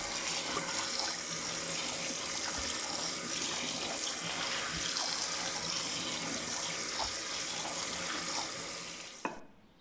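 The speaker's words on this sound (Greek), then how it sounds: "και τα ξεπλένω με άφθονο τρεχούμενο νερό." Plenty of running tap water gushes steadily over figs rinsed in a kitchen sink, a close continuous splash that cuts off abruptly with a small clunk at the end.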